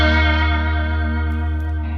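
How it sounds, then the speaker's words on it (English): Guitar run through a Warm Audio WA-C1 chorus vibrato pedal set to vibrato, a sustained chord wavering steadily in pitch, loud and close and fading slightly over about two seconds. "if you want to go to vibrato, that's the vibrato"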